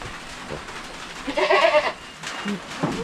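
A goat bleats nearby in a short wavering cry, followed by a weaker second bleat, with background noise and some people talking.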